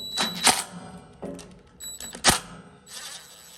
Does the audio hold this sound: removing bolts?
yes